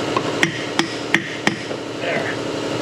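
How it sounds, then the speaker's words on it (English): Four sharp metallic hammer strikes ring out at an even pace on a stuck rear shock bolt of a Lexus RX350 with the 3.5-litre engine, followed by faint shop noise. "More hammering."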